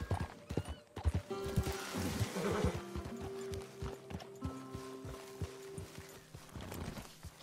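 Horse hooves clop at a walk in the Red Dead Redemption II video game as a rider enters camp, steady close footfalls with a brief whinny and other soft game sounds around them.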